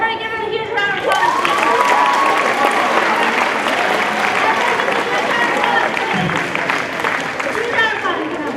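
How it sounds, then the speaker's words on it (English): High school assembly crowd giving a big round of applause, sustained loud clapping and cheering throughout, with a voice over it. "Everybody give him a huge round of applause."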